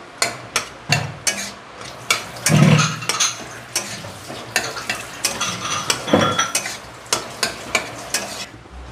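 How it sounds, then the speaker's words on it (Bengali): Singara potato filling stirred in a pan, a spoon scraping and clattering against the metal in quick repeated strokes over a steady frying sizzle, close and fairly loud with no voices. "নেড়ে দিচ্ছি"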